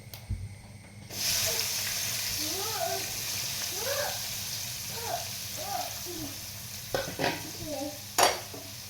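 Urad dal, chopped onions and green chilies hit a hot pan for upma, setting off a loud steady sizzle close by, with a voice talking over the frying and a few sharp spatula clinks near the end.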